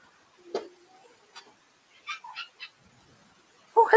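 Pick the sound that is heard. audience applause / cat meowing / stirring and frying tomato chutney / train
cat meowing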